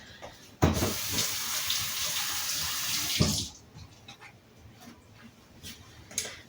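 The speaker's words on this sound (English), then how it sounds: "so I'm going to rinse it" Running water from a tap splashes over pickling cucumbers as they are rinsed, a loud broadband gush for about three seconds that then drops to a quieter trickle with small drips and clinks.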